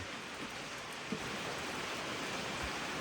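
Steady rain falling outdoors in an off-grid Alaska setting, a constant broadband hiss like water pattering on surfaces, continuous and even throughout with no voices.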